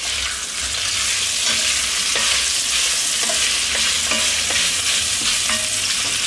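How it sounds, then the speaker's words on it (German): Bratwurst sizzles and fries steadily in hot clarified butter (Butterschmalz) in a pan, a loud continuous crackle with faint clicks of a utensil, no voices. "Und die braten wir jetzt schön an. In Butterschmalz."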